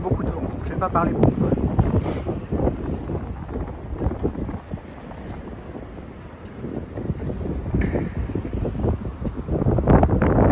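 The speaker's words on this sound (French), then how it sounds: "il y a beaucoup de vent" Strong wind outdoors in London in March buffets the microphone, a continuous loud roaring rumble that rises and falls throughout.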